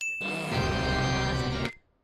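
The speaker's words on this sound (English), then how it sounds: "I love the fact the musical theater nerd has a musical ringtone" A musical phone ringtone rings in an animated comedy, a bright tinkling melody over a busy music-like bed for under two seconds before cutting to near silence.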